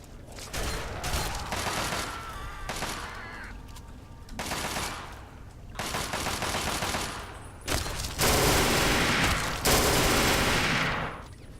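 Rapid automatic gunfire from the Bozar in the video game Fallout 3 rattles out in repeated loud bursts separated by short pauses, the last volleys longest and heaviest, with faint mechanical clicks between.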